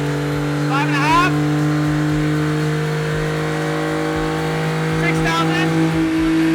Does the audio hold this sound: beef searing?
no